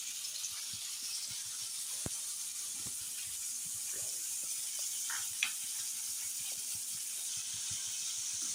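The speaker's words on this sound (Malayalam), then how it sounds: "നാരങ്ങ ജ്യൂസും കുറച്ച് മഞ്ഞളും കുറച്ച് ഉപ്പും ഇട്ടിട്ട് പൊരിച്ചെടുക്കാം നമുക്ക്." Chicken marinated with lemon juice, turmeric and salt fries in hot oil, a soft continuous sizzle with faint crackles and a few small clicks, steady and unaccompanied by voices.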